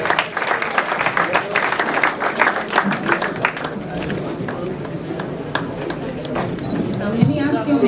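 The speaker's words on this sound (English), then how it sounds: "So please give a big round of applause to all the faculty members" Applause at a college fresher party at Accurate Institute of Management and Technology: dense clapping and cheering from a crowd for about four seconds, then fading into crowd chatter and voices.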